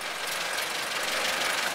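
A 1931 Ford Model A engine, first run after sitting for sixty years, idles with a steady, dense mechanical clatter that stays fairly loud and even throughout, with no voices.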